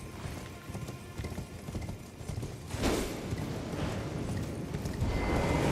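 Rhythmic clip-clop of horse hooves at a steady trot in Elden Ring Shadow of the Erdtree, synthetic and game-like, continuing throughout with a brief louder burst midway.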